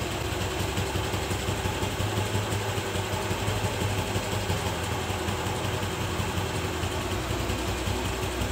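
A TVS Jupiter scooter engine idles at its lowest RPM, giving a steady, even low hum with a constant mechanical buzz that runs unbroken at the same level from start to finish.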